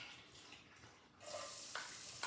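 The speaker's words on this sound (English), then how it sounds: "You can tell the oil is definitely ready because it's sizzling." Minced garlic hits hot oil in a pan and begins a bright, steady close sizzle partway through, with a couple of sharper crackles and no talking.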